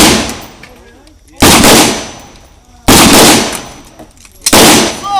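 Three loud rifle gunshots crack out at steady intervals during a tactical fighting-rifle drill, each a sharp broadband blast with a decaying tail, separated by quieter gaps.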